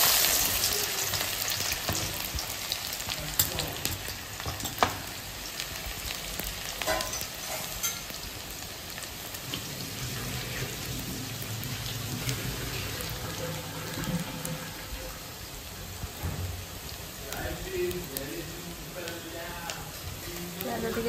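Onions fry in hot oil with a steady, close sizzle that crackles on and off for the whole stretch while a person talks over it.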